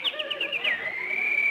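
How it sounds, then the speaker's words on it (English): A bird on a lawn gives a close series of quick chirping notes that slide into a sustained, steady whistled tone, clear and fairly loud with no voices present. "Oh, Jack, look at that beautiful bird on your lawn."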